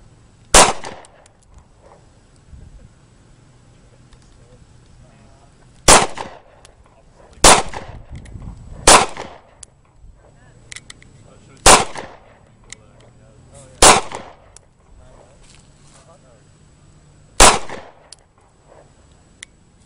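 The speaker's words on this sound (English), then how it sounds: "Alright, so I'm shooting the Springfield 9E 6mm, something like that." A Springfield XD 9mm pistol fires seven sharp, loud shots, irregularly spaced a few seconds apart, heard outdoors with quiet stretches between them.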